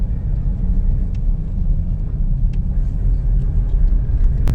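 Steady low road rumble of a car driving home along a small town's central street, a continuous interior drone with occasional faint ticks, no talking.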